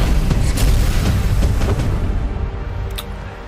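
A deep, heavy boom rolls out and fades over a few seconds, a single cannon blast in the video game Deus Ex: Mankind Divided, with low rumbling decay.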